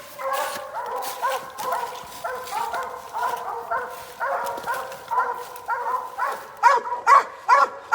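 Coon hunting dogs bay at a treed raccoon at night, sending out repeated rhythmic barks and yips at moderate distance that grow louder and more urgent toward the end.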